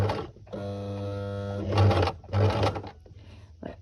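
A sewing machine stitching fabric for a child's doll carrier, with a loud droning motor run, then short bursts of rapid stitching broken by pauses as the fabric is turned, close up.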